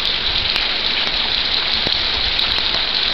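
Heavy rain pours down on a wet day outdoors, a dense, loud, unbroken hiss of drops hitting surfaces, with no speech over it.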